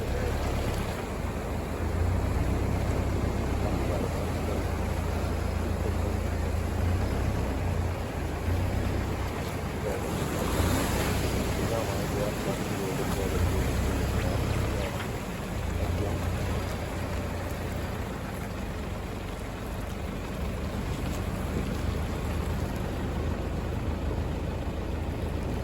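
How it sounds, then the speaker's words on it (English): A 4WD vehicle pushes through a deep river crossing on a rough bush track, water washing and surging around it over a steady low engine drone, loud and continuous without talk. "Another river crossing with another big hole in it sometimes."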